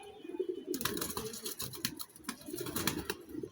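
Domestic pigeons being dosed with liver tonic coo in low, repeated murmurs, broken by bursts of rustling and clattering close by.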